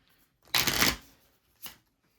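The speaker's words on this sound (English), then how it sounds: "I'm going to shuffle these cards back into the deck and draw a new 4" Playing cards in a Flesh and Blood tabletop game are riffled back into the deck in one close, crisp burst, followed by a brief second flick, all with no talking.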